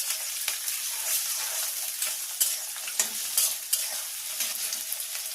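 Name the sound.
green beans frying and being stirred in a pan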